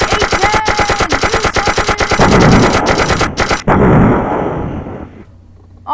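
An A-10 aircraft fires on a house in the video game Detonate. It is a rapid, loud burst of gunfire with sharp evenly spaced cracks, followed by heavy rumbling blasts that fade into quiet.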